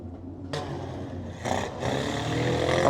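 A battered demolition derby car's engine revs up in loud surges at an outdoor raceway, rising roughly in two bursts over a constant rumbling background of other motors.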